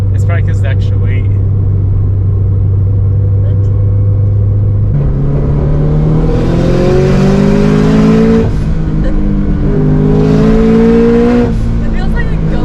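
A car with its turbo boost turned down drives and accelerates, the engine note rising through a couple of gear pulls with a steady low rumble throughout, loud and close from inside the cabin, as people talk over it.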